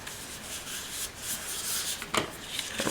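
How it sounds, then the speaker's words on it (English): Soft, quiet rubbing as a folded paper crease on a pop-up birthday card is burnished flat, a continuous light scrape ending in a brief firmer stroke. "And burnish that down."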